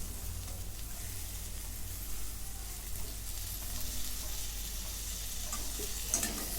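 Bitter gourd being stirred with masala and chopped coriander in a pan, a steady close sizzle with soft scraping running throughout and a few sharper clinks near the end, no talking.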